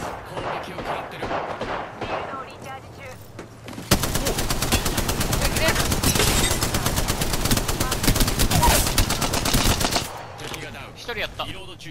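Sustained automatic gunfire in Apex Legends rattles in a dense, rapid burst lasting several seconds, loud and close, with scattered shots and game sounds before and after.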